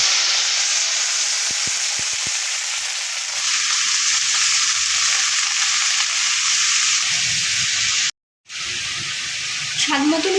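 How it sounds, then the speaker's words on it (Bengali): Carrots, beans and capsicum fry in hot oil for fried rice, giving a steady, dense sizzling hiss heard up close, with a brief dropout near the end. "ভালো করে সবজিগুলোকে ভেজে নিচ্ছি।"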